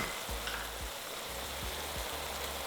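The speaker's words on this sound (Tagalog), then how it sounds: "Pagkalagay ng suka, bayaan lang muna natin na kumulo yung liquid na nasa lutuan" Vinegar and liquid simmering in a cooking pan for tochong bangus, a steady sizzling hiss with soft periodic bubbling pops, close and alone.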